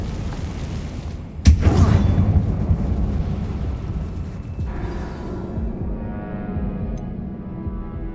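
A Confringo spell explodes inside a closed mine resembling a tomb in Hogwarts Legacy. A single sharp, loud blast strikes suddenly, then a rumbling roar tails off over several seconds into a quieter low ambience.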